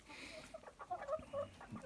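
A hen clucks in a farmyard, a short run of soft, mid-distance clucks in under two seconds with faint background noise.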